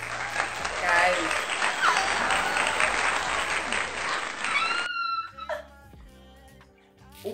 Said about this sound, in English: can you get a round of applause, please?